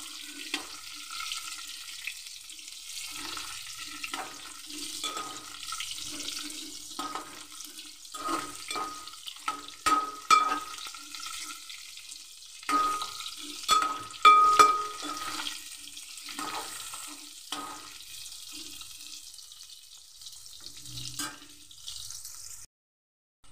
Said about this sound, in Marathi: कारली चांगली शिजेपर्यंत आपल्याला परततच राहायचं आहे